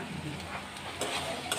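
Vegetables (potato, tomato, peas) frying and being stirred in a pan for a rohu fish curry, a steady close broadband sizzle with a couple of brief scraping accents, no talking.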